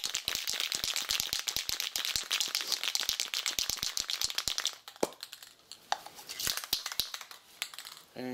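A can of spray adhesive is shaken hard, its mixing ball rattling in a rapid, steady series of sharp metallic clicks close up, then slowing into scattered, irregular rattles.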